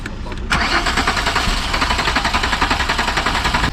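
A Volkswagen Golf MK4 R32 engine cranks steadily with a rapid rhythmic churning from a starter motor but never catches, loud and close.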